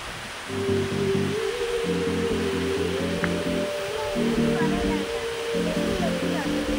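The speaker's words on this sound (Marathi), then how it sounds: "मस्त असा वसुंधरा फॉल।" Vasundhara waterfall near Ratangad Fort, heard as a steady, close rushing roar of falling water that continues throughout, with voices and tonal sounds layered over it.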